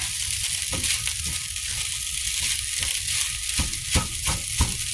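Seafood fried rice with salmon, abalone, Chinese cabbage, carrots and celery sizzling steadily in a hot pan, a loud continuous fry hiss broken by occasional sharp scrape and stir clacks, with no talking.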